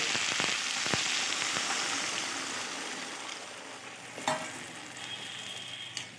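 A pan of Bengali-style rohu fish curry masala with eggplant and potato being stirred after a little water goes in, a steady close bubbling sizzle under scraping spoon strokes, with a couple of sharper clinks near the end.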